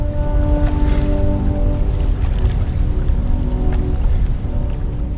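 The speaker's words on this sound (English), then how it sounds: "you can hear the rumble of the falls in the background" A loud, continuous rumble of rushing water fills the scene, dense and unbroken like a big waterfall close by, with faint tonal music underneath.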